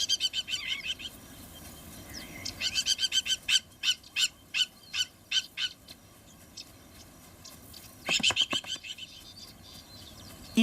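An agitated plover calling in open grassland, sharp repeated piping notes in quick insistent series, moderately near and clear over a quiet background.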